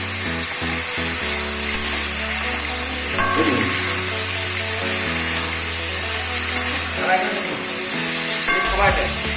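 Eggplant and potato sizzle steadily in a hot pan, a continuous loud frying hiss with occasional stirring scrapes and clinks over a low background hum; no voices.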